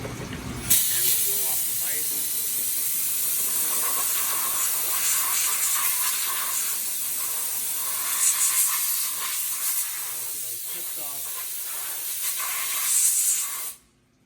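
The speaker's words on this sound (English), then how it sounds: "I'll grab the air hose here." Compressed air hose blowing off a freshly machined aluminum card holder clamped in a vise, a loud continuous hissing blast lasting several seconds with brief surges and a sharp stop at the end.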